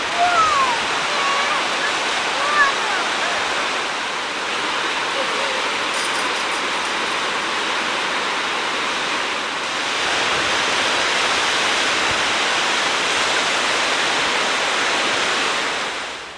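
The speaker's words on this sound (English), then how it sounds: "So Bethany and Daddy went out to see the waterfalls." A waterfall on the Shell River thunders as a dense, steady roar in a deep canyon, loud and continuous throughout.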